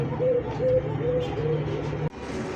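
A pair of white Bombay fancy pigeons coo softly in repeated low phrases, close by, over a steady background hum.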